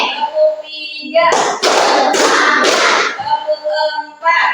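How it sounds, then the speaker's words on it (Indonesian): A classroom of students clapping in counted bursts, a few loud dense rounds of hand claps separated by a teacher's voice calling out between them. "Tepuk satu, tepuk dua, tepuk tiga,"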